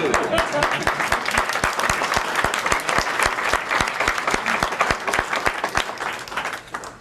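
An audience at a vision research prize ceremony breaks into steady applause, many hands clapping together in a dense, even wash that fades slightly toward the end.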